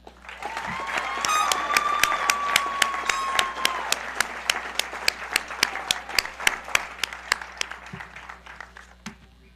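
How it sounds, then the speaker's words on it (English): Scattered audience applause at a high school graduation ceremony, with faint whooping over the clapping. Distinct single claps ring out more sparsely as it tapers off. "Can I get a round of applause for her and Luca?"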